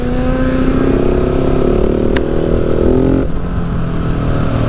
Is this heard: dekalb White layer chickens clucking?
no